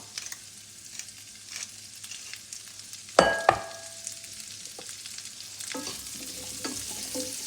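Quiet frying of carrots in melted butter in a pan, a low steady sizzle with scattered clinks and a couple of sharper knocks from a utensil.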